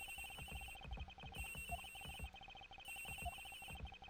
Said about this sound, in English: The ringing's coming from in here, sir.